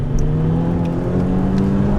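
A modified 1200hp Audi TT RS under hard acceleration, its engine roaring loud and close in one sustained, steady blast with no speech over it.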